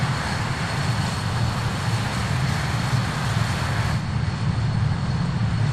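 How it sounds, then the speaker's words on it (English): A jet aircraft in a video game takes off with a loud, continuous engine roar that holds steady throughout and has no voices over it. "So we're just gonna get this this jet into the air."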